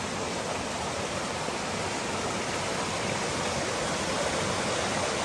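Creek water rushes steadily at a dangerous crossing on the Smokies section of the Mountains to the Sea trail, a loud, continuous broadband roar that stays close and unbroken throughout, with no voices.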